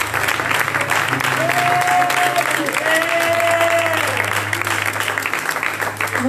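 A church congregation applauds, a steady, loud wash of clapping filling the room throughout, with voices calling out over it.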